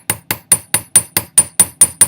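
A hammer taps metal flat during riveting, ten sharp, evenly spaced strikes about a fifth of a second apart, close and loud with no talking.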